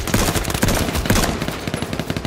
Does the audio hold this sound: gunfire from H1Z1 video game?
yes